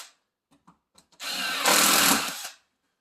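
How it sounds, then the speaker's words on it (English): A power drill fitted with a spring-loaded centering bit and a 5 mm bit bores holes for an undermount drawer track in a kitchen cabinet. A few light taps come first, then a single loud, close whirring burst of about a second. "So all I want to do is I want to drill 2 holes for my drawer"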